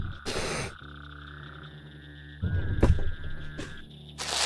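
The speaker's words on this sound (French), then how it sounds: "Ah, le retour des grenouilles." Frogs croak in a few sharp bursts, loud and close, with pauses between them and a steady background drone, and no talking.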